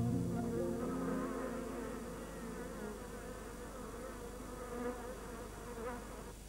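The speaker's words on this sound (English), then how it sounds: "Wild bees swarm when a new queen and her colony go in search of a site to build a comb." A dense, steady buzzing hum of swarming wild bees at Hell's Gate, continuous and fairly close, with the drone rising and falling slightly throughout.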